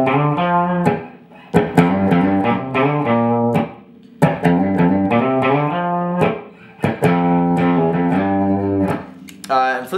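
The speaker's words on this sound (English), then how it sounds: "I will turn on the distortion pedal just because it sounds so much better" Electric guitar through a distortion pedal plays chords and short riffs, gritty, loud and close, with brief pauses between phrases.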